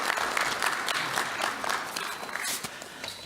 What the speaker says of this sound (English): Can we encourage the Minister with a round of applause